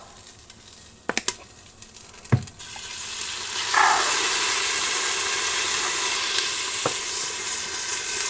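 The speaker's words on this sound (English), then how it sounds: "The pot is getting nice and hot, and I'm going to go ahead and add some oil, some tomato paste," Oil, tomato paste and ketchup sizzling loudly in a hot pot, a steady frying hiss that swells after a few clinks and stirs, then holds continuously to the end.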